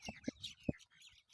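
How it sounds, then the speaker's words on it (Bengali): Small birds chirp in short, separate calls near open crop fields of wheat and mustard beside a brick-paved road by a wetland in rural Chuadanga, Bangladesh; a few quick tweets sound close and fairly soft. "পাখির কিচিরমিচির শব্দ।"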